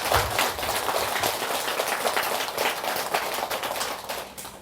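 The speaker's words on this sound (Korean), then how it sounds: "이상벽 선생님께 뜨거운 박수 한번 주시기 바랍니다" An audience claps warmly for an honoured guest during a Buddhist dharma lecture, steady dense applause lasting several seconds at fairly close, even volume.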